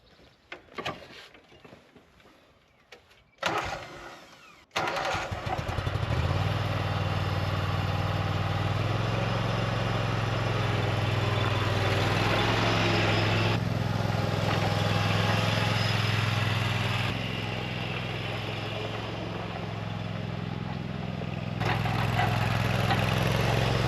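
A Scag Turf Tiger mower engine, fresh from a hydraulic pump failure repair, first gives a few faint clicks and cranking sounds, then catches and runs with a loud steady near rumble that continues to the end.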